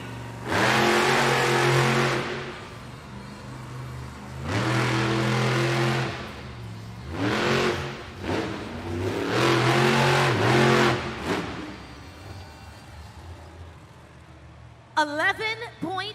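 Monster trucks race at a Monster Jam event in an Evansville arena, their engines roaring loudly in several long, surging revs with short dips between, then fading to a quieter rumble with a few sharp squeals at the end.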